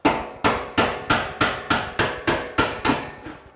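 Steady metal-on-metal hammer taps on the pipe of an old ugly drum smoker being rebuilt, about ten sharp, evenly spaced strikes each ringing briefly, close and loud with no talk.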